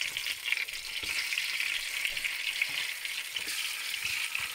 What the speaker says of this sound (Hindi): ऑयल आप देख सकते हैं गर्म हो गया, तो साथ ही मैं फिश भी डालूंगी।